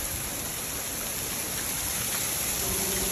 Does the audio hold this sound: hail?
yes